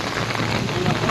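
Heavy rain falling on damaged, hail-hit farmland in Vadgaon Dal village near Bhor, a dense steady wash of drops striking the ground close by, loud and unbroken.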